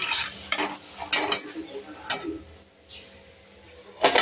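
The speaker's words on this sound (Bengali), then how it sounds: "এদিকে আমার লুচি ভাজা হচ্ছে" Luchi fry in hot oil in a home kitchen: a soft bubbling bed broken by sharp clinks and scrapes of a utensil against the pan at irregular moments.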